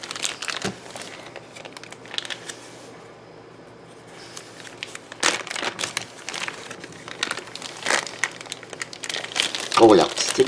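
Trading card booster packs from the Présages du Pharaon expansion being torn open, with close, repeated plastic wrapper crinkling and crunching in bursts, and a voice speaking at times.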